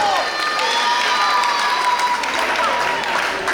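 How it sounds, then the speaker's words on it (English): A wrestling crowd at the Morgan Hill Event Center cheers and claps, a loud continuous roar of voices and applause filling the room, with a few whistles cutting through. "Listen to this crowd."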